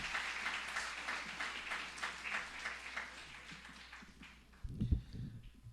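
An audience at a criminology lecture in Mexico gives a round of moderate applause that gradually thins and fades, ending with a few knocks and footstep-like thuds as the speaker approaches.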